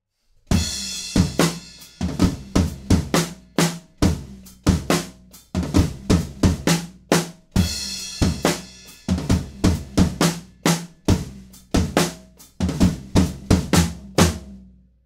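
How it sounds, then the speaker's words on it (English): Drum kit playing a heavy halftime groove from a song: big booming toms and cracking snare hits in a steady repeating pattern, with hi-hats kept on quarter notes by the foot, loud and close throughout. "And then we're into the huge halftime tom part, and that sounds like this."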